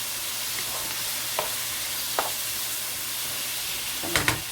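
Meat sauce for spaghetti simmers and cooks down in a pan, giving a steady low sizzling hiss with a few faint utensil taps and a louder stirring clatter near the end, no voices.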